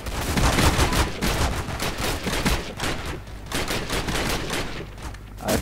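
Rapid automatic-style bursts from an M1 carbine firing nonstop in a zombie shooter game, a dense, continuous rattle of shots at steady loudness with no talking.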